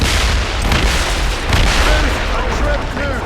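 Ship cannons fire during a naval battle in the video game Assassin's Creed Rogue, a loud, dense rolling boom that barely lets up, with shouting crew voices mixed in.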